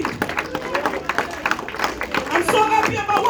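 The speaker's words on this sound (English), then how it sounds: "clap your hands for our King" A church congregation claps hands together in quick, uneven bursts layered with voices and crowd noise, the clapping close and lively throughout.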